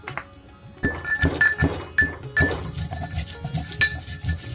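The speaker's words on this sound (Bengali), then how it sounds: "তাজা উপকরণগুলোকে এখন আমি হাম্বল দিতে গুঁড়া করে নেব" Fresh spices for beef liver bhuna are pounded in a mortar and pestle, giving sharp, close knocks and clinks at an uneven beat.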